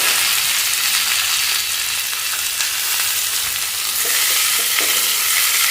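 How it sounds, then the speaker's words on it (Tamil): Chopped tomatoes fry in a pan for a tomato chutney, giving a loud, steady sizzle with repeated scraping as they are stirred. No one speaks. "தக்காளி நறுக்குனதையும் அதில் போட்டணும்."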